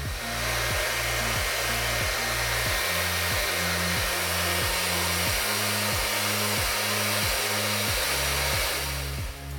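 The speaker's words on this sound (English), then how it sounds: "Just take the hairdryer and dry the photo" Hairdryer blowing steadily on a photo print transferred onto wood, a loud close continuous whoosh with an even motor hum and a regular pulsing pattern throughout, no voices.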